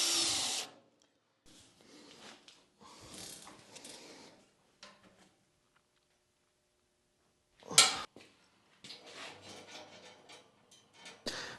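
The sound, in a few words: drilling holes in plasma table frame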